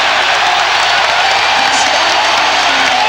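A loud arena crowd at a 1994 NBA playoff game between the Indiana Pacers and New York Knicks roars steadily as it calls for a foul. The dense, continuous noise has voices mixed into it.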